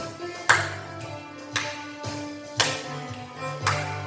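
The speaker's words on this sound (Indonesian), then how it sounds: "Mari kita bertepuk tangan memuji Tuhan." At an online children's Sunday school service at a GBKP church in Tangerang, four sharp, evenly spaced hand claps ring out about a second apart over a soft sustained musical backing.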